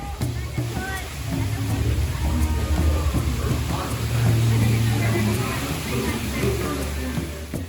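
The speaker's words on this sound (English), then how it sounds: "the sounds of the waterfalls and the gentle river during the initial parts of this ride are just so very relaxing" Waterfalls and a gentle river on the Jurassic Park River Adventure ride at Islands of Adventure, a steady close rush of splashing water that runs unbroken, with faint voices mixed underneath.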